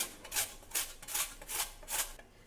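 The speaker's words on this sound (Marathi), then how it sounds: "इथे किसणीवर आता आपल्याला हा भोपळा किसून घ्यायचा आहे" A pumpkin being grated on a kitchen grater, five soft rasping strokes in steady rhythm, quiet and close, with no voices.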